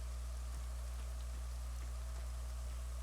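Rain falls steadily on a minefield in Arma 3, a constant soft hiss over a strong low hum that never lets up, with no voices.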